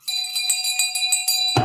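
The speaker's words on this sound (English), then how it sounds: "Thank you for our bell, Stephen." A bell rung as a signal gives a clear, bright ringing tone that shimmers steadily for about a second and a half before cutting off abruptly, close and alone.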